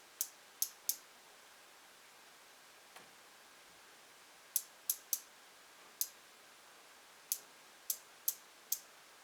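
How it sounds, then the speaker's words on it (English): A click-pen concealer gives sharp, quiet clicks in irregular groups, about a dozen in all, close to the ear over a near-silent background. "It's an awful lot of clicking, not a lot of product coming out."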